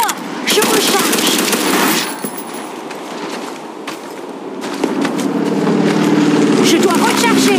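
An MG30 machine gun firing in the video game World War Heroes, rapid loud bursts close up with short pauses between, mixed with game sounds and a voice talking over it.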